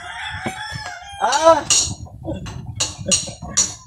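A nearby rooster crows once loudly, surrounded by scattered clucks and short squawks from chickens, with a person speaking briefly in the background.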